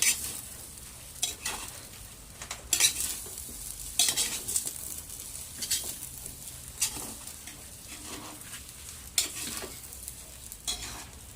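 Pancit being stirred in a large wok (kawali), with sharp spatula scrapes and clinks landing at an irregular pace over a soft, steady sizzle. No one speaks.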